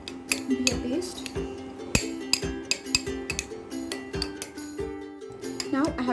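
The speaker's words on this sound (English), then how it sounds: "Now I have smashed it up nicely and I have made a paste." Banana peel being mashed with cucumber juice into a paste in a bowl, heard as a rapid, irregular run of close clinks and taps of a utensil against the dish over a steady background tone.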